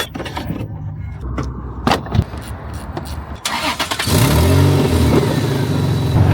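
A Toyota Supra, just fitted with new batteries, cranks and fires up, then its engine revs and holds a loud, steady rumble close by, following a stretch of handling noise and scattered thumps.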